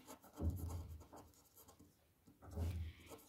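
Pen or chalk writing out linear equations during a Class 10 maths lesson, heard as faint scratchy strokes in two short bursts separated by a quiet pause, close but low in level.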